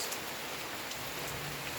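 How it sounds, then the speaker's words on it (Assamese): Steady rain falls outdoors around a home kitchen, a soft, even hiss of drops with no pauses and no voices. "বৰষুণ দি আছে, বৰষুণ চলি আছে বঢ়িয়া একদম"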